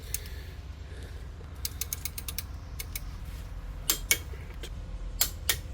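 A torque wrench tightens brake caliper bolts on a 2500 2WD Sprinter van, giving quiet scattered ratchet clicks with a few sharper clicks later, over a low steady background hum.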